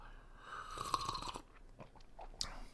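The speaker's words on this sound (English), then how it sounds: "I'll slurp it up some more." Organic coffee is slurped close to the mic in a soft, breathy run of sipping and airy sucking noises, with a faint clink near the end.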